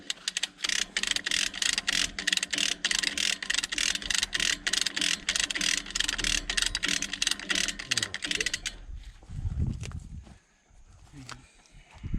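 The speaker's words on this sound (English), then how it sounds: "you want to grab that ratchet with the 3/4 on it" Rapid ratchet wrench clicking, a 3/4-inch drive ratchet worked on a worn tracked machine's track equipment, a dense run of close, loud clicks for about nine seconds before it stops and a short spoken remark follows.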